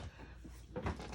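A small drawer beside a crafting desk, used to store a paper trimmer, opens or shuts with a brief, soft wooden knock and slide near the end, quiet and close in a still room.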